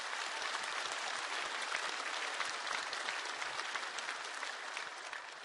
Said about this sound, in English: so could we give them a round of applause?